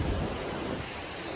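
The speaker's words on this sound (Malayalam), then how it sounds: "നല്ല വലിയ തിരമാലകൾ" Big sea waves at Varkala beach roll in as a soft, continuous wash of surf, faint and distant with a windy hiss and no talk.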